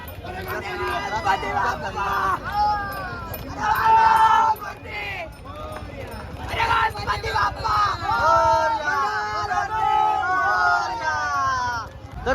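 Dense crowd at a Ganpati immersion procession, a busy babble of many voices with shouts and yells rising and falling, people talking close by over the steady hubbub.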